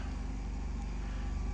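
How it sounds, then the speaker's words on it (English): A low, steady RV generator hum on a 2024 Coachmen Leprechaun 319MB motorhome drones close by, a faint continuous mechanical purr with no other sounds. "If you can hear that purr in the background, that's actually the generator."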